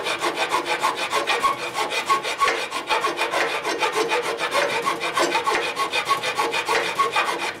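A 1957 Harley-Davidson panhead frame being cut for a drag bike, a close, loud, rapid rasping stroke of a blade biting the steel tube, repeating in a fast, even rhythm throughout.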